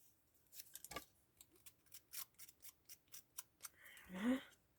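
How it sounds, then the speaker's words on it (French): Scissors cutting paper for a handmade card, a run of crisp, evenly spaced close snips followed by a brief rustle of paper. "Je découpe."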